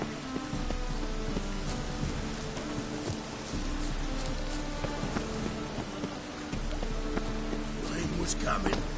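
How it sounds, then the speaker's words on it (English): Steady rain falls through an outdoor scene in The Witcher 3, a continuous soft hiss of patter with occasional footsteps and small movement sounds, moderately quiet throughout. "Rain was coming."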